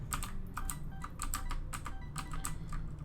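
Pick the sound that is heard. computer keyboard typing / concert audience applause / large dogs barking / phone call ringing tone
computer keyboard typing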